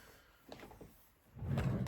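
Middle drawer of an office desk slides open with a couple of soft clicks followed by a low rumbling scrape, close and quiet, no talking over it.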